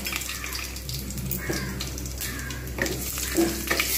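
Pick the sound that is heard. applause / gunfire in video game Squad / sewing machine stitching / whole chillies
whole chillies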